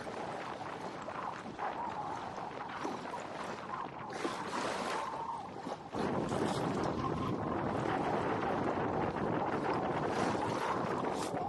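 Strong wind buffeting a sailboat with its genoa partly out, off Brixham Harbour toward Berry Head, in a loud, continuous gusting roar with rumbling microphone wind noise that swells midway and stays heavy.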